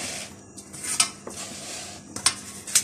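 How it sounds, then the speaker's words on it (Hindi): A spoon lifts coconut macaroon mixture from a bowl, with soft wet scoops and a few sharp metallic clinks against the dish, close and fairly quiet with short pauses between. "अब मैं इसको एक चम्मच की मदद से आप इस तरह से इसको उठाएंगे"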